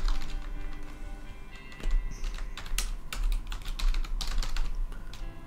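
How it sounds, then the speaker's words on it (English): Computer keyboard typing, with quick irregular bursts of close key clacks and short pauses between them, and no voice. "I'm not very good at typing on this keyboard"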